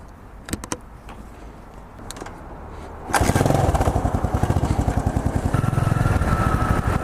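A motorcycle engine starts after a few clicks and settles into a loud, close, steady idle with a rapid even pulse, on a street in Berlin.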